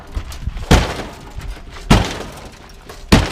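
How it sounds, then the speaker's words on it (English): Battering ram slamming into a wrecked police car, three heavy, loud impacts about a second apart, each a dull thud with a crunching edge, over faint background rustle. "we got the battering ram"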